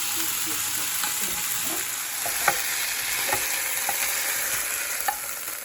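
Pieces of beef sizzle loudly and steadily in a hot pan as they fry for a hotpot, with occasional scrapes and clicks of stirring over the continuous crackle.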